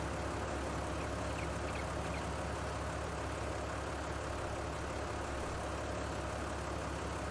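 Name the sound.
tractor engine in video game Farming Simulator 22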